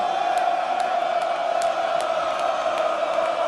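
Wrestling crowd at an ROH Final Battle tag team title match roaring in a steady, loud, sustained mass of noise, with scattered shouts and whistles poking through the dense arena din.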